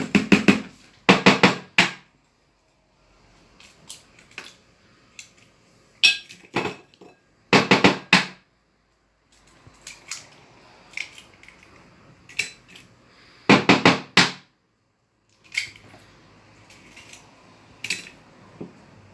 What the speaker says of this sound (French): nous allons mettre les 3 œufs dans le saladier